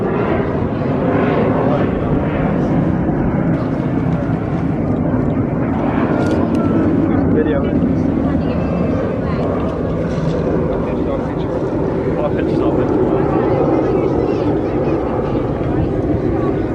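A display aircraft flying gentle loops at the Eastbourne Airshow makes a steady, loud propeller-engine drone that rises and falls slightly, heard throughout under continuous commentary from an announcer.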